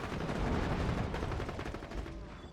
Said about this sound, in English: I don't think I've seen a pistol that's that rapid fire